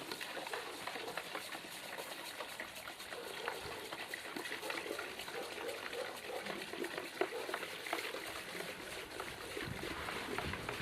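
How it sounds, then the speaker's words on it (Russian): Urea dissolved in water is stirred in a bucket, a faint, steady swishing and sloshing of liquid that continues evenly throughout. "Перемешиваем до полного растворения."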